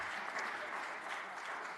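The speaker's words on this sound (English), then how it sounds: "Let's give them another round of applause for their strength and their perseverance" Audience at a county public meeting claps in a brief, steady burst of many hands, faint and distant, with no talk over it.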